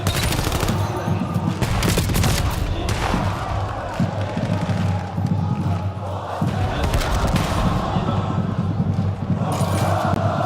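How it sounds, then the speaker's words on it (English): Loud, dense gunfire from Call of Duty Black Ops 7 at a competitive esports group-stage match, with overlapping shots in a near-continuous barrage for the whole stretch. "a lot of shots just thrown"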